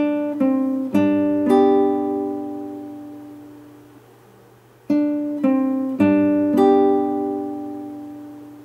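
Melody of a song picked on guitar strings, the second phrase only: two clear groups of plucked notes that ring out and fade, played solo with no talking.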